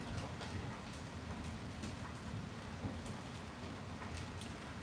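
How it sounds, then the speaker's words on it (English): Steady rain falls and patters on surfaces outside, a dense even hiss with scattered louder drops, holding at a constant level throughout with no voices. "This rain is therapeutic though."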